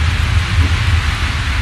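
Steady rain falls during a road trip, a dense, loud, even hiss with a low rumble beneath, continuous throughout and without voices.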